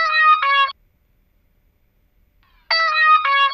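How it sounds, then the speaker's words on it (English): Short guitar lick run through a tube saturator, two quick bright plucked phrases with a long silent gap between them, clear and upfront with nothing else playing. "The only other instrument that I added was this little guitar lick that I played."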